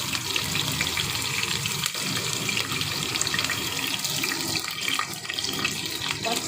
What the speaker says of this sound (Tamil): நான் பச்சை மிளகாய் கிள்ளி கிள்ளி கழுவி வச்சிருவேன்